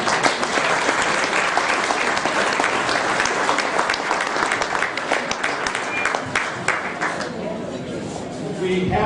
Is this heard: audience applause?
yes